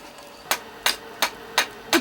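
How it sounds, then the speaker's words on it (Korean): Five sharp hammer blows at an even pace, about a third of a second apart, as an axe handle is being fixed outdoors; each strike rings clearly above a quiet background. "뚝딱뚝딱 능숙하게 도끼 자루를 손봅니다"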